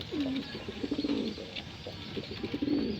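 Racing pigeons coo in low, rolling bursts, several soft calls overlapping close by against a faint background hiss.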